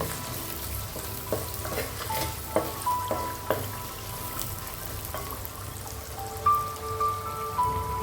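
Curry leaves sizzle and crackle in hot oil in a frying pan while a Chirala-style fish curry is made, a steady spitting fry with sharp pops and some stirring, close and without talk.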